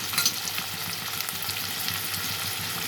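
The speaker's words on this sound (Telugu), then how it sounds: "ఈ ఆయిల్ కూడా మరిగిపోయింది. ఆనియన్స్ వేసేసుకుందాం" Chopped onions fry with salt in hot oil for a Sunday pulao and chicken liver curry, a dense, steady sizzle crackling without pause and stirred now and then, close and fairly loud with no talking.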